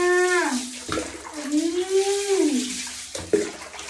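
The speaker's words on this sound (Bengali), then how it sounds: "এই যে গরম জল, এদিকে গিজারে গরম জল হচ্ছে।" Hot water from a home geyser runs for a child's bath, a continuous close rush of water with a couple of clunks, while a long rising and falling whine or howl sounds over it.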